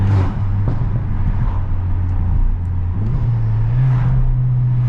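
Straight-piped VW GTI rolling over rumble strips, a steady low exhaust drone with a pulsing buzz from the strips, close and loud, with no voices.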